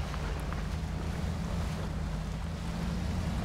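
A truck churns through a water pool in Spintires Mudrunner, giving a steady low engine drone under a constant wash of splashing, rushing water with no talk.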